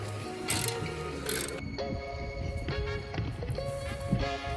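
A ratchet with a 13mm socket works fasteners on a Ford Maverick truck during an oil change, giving quiet rapid clicking in short bursts with a few metallic clinks, close but faint.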